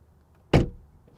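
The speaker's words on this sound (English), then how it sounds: "Door open and close sound from the outside" A BMW i4 car door is shut from outside with a single solid, close thunk that decays quickly against a quiet background.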